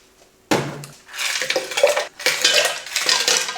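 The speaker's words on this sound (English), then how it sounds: "I'm gonna add some ice." Ice goes into a glass of freshly poured bagged peach iced tea at home, sounding as several close, loud clattering bursts of cubes rattling against the glass with no talk.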